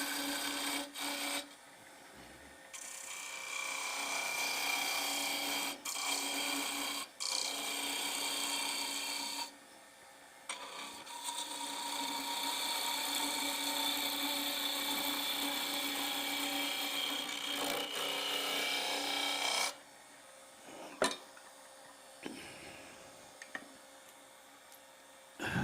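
The wooden body of a salt shaker is tapered on a lathe, giving a sustained high whirring scrape with short pauses and a few knocks toward the end, close and moderately loud.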